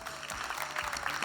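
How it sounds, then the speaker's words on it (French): Audience at a live performance clapping, a short burst of dense, moderately distant applause. "je veux bien que vous applaudissiez ces artistes"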